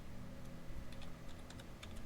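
Quick, quiet taps on a computer keyboard while entering text into a Microsoft Word dialog box, a short, soft run of keystrokes over low room hum.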